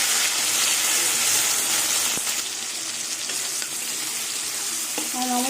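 Prawns and onion frying in hot oil give a loud, steady sizzle that crackles continuously, with a few faint utensil clinks near the end.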